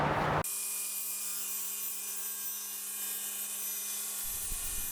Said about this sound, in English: I'm just cutting 2 slices out of the board before I continue on